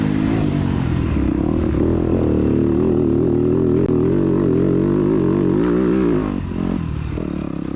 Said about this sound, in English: The engine and exhaust note on this bike is really cool to me too.